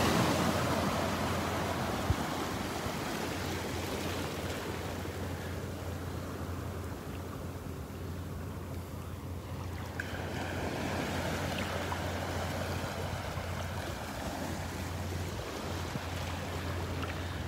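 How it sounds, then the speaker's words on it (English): Small waves breaking along the edge of a sandbar on a calm beach in North Naples, Florida, a soft continuous wash of surf with wind rumble on the microphone, no voices. "Just a couple little waves, they're breaking right along the edge of the sandbar here."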